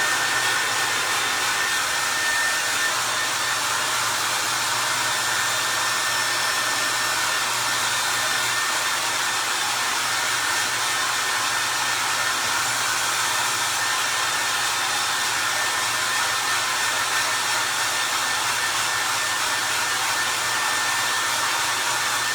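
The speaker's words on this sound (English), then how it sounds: "Sorry to have to listen to the dryer going" A loud, constant blowing drone of a clothes dryer running nonstop, close and unchanging throughout.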